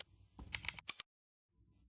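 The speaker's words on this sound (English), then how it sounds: "I'm just typing" Quick burst of close, soft clicks from a computer keyboard being typed on, a short run of keystrokes then a pause and a faint resumption.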